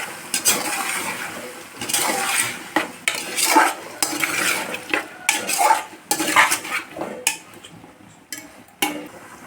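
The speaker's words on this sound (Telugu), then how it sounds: "వేసేసుకొని ఒకసారి అటు ఇటు తిప్పేసుకున్నాం మొత్తం" Carrots and tomatoes stirred in a metal cooking pot for a vegetable pulao, a spoon scraping and clinking against the sides in irregular, close, fairly loud strokes with no voices.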